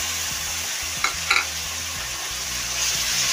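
Onions, tomatoes and green chilies stir-fried in a pan for chana masala, with a steady sizzle and a couple of sharp scraping stirs, close and alone under a low musical hum.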